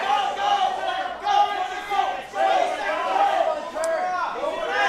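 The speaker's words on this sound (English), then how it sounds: "You can hear the crowd erupting." Spectators at a jiu-jitsu team tournament cheer and shout in a sustained, swelling roar, heard as a dense crowd din beneath a commentator speaking over it.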